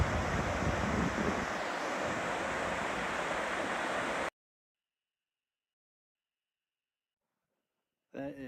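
A mountain creek rushes between upper and lower Lamarak Lake in a glacial basin, a loud, dense, steady roar heard close for about four seconds before sudden silence and a brief voice.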